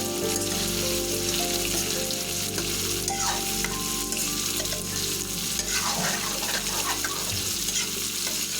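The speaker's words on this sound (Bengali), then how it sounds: "এখন এটাকে আমরা আরও মিনিট 2 ধরে কষিয়ে নেব" Continuous loud sizzling as prawns and chicken sauté in a pan, with occasional scraping stirs, steady throughout and close up.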